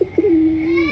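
A black Bombay pigeon gives a single short coo, a soft throaty note followed by a drawn-out steady tone, heard close and alone.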